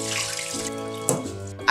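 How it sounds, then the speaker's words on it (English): Rice is rinsed under a running tap in a kitchen sink before cooking raw fish porridge, a steady close rush of water with a brief splash near the end and no talk. "the first thing we have to do with the rice is to actually wash the rice"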